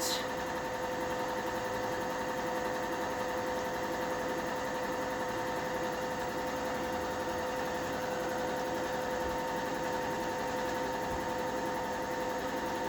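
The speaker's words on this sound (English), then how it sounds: "I'm kind of happy that I'm dealing with a machine. Hand sewing this would take a long-ass time" Sewing machine stitching fabric for costume garb, a steady, continuous mechanical whir with a fast, even hum, close and unbroken.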